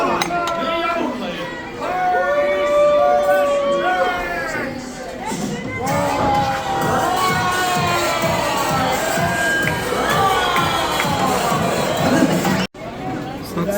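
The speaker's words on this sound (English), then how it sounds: "Show me applause. Everybody, hands up." Crowd at a rodeo show cheering loudly, with shouts and whoops rising and falling over a steady wash of applause, dense and close throughout with a brief dropout near the end.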